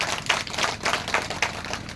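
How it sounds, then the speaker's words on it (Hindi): An audience claps with both hands raised at a gathering, a brisk patter of hand claps in uneven rhythm, fairly close, with no speech. "तो समर्थन करते दोनों हाथ खड़ा करके ताली बजाओ, तब तो समर्थन होगा।"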